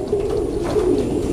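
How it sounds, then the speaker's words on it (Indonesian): Racing pigeons coo steadily inside a breeding loft of championship birds, a continuous low, throaty warbling from several birds close by, with no talk over it. "Cuman kalau burung yang tua nah itu bapaknya Kenwood sama ada cucu cicit yes ada cicit di sini"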